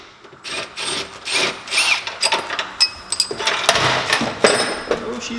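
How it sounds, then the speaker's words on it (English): Four rivet nuts are set by hand with a metal tool: a close run of scraping, grinding and clicking bursts that keep rising and falling in loudness. "installing the rivet nuts"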